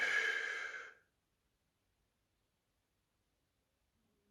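A single long exhale during a guided breathing exercise, an audible sigh-like breath out lasting about a second, followed by near silence.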